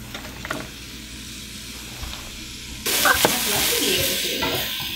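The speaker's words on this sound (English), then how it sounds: "adding some butter. And then we're going to saute the shallots and the green onions." Shallots and green onions sautéing in butter over medium-high heat for a breakfast dish: a soft, low hiss at first, then the sizzle jumps louder and stays steady and close for the final couple of seconds.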